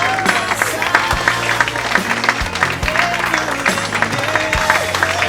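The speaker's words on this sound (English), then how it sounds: "Let's give them a big round of applause, everyone" Wedding guests at a reception clap for the couple as they are introduced, a lively, sustained round of applause over music playing in the room, with some voices mixed in.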